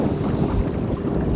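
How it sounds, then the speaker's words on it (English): Strong wind roars through a forest on a cold, gusty day, with a low, rumbling rush buffeting close to the microphone and no voices. "So yeah, it's kind of windy."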